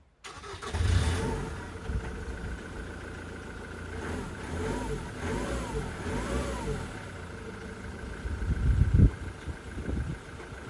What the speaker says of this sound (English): And the most important thing about this one is it starts.